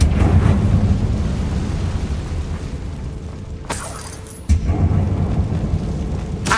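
A Confringo blasting spell goes off in Hogwarts Legacy, a loud broadband explosion bursting over a continuous rumbling game soundscape, with a sharp crack near the middle and a second hit shortly after.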